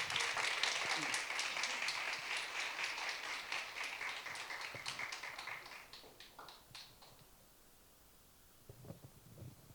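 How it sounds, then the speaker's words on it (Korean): Church congregation applauding, dense clapping that is loud at first, then thins to scattered claps and fades out near the end. "큰 박수로 환영해 주시면 감사하겠습니다"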